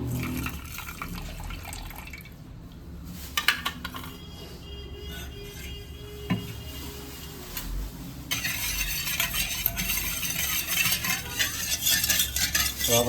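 Spoon stirring sugar into a liquid mix with turmeric and lemon juice for Surti khaman batter, a steady close scraping and swishing of utensil against a bowl with light liquid sloshing, growing louder and busier toward the end.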